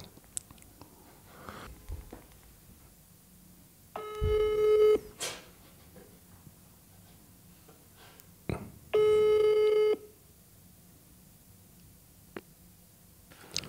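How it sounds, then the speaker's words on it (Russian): Telephone tones sound twice: a steady, fairly loud ringback tone of about one second, then a pause and a second ring of the same length, with faint room noise and small clicks between them. "Я сейчас позвоню."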